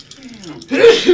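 A single sharp sneeze bursts out at close range at a tabletop role-playing session, preceded by a short breathy intake, with people talking around it.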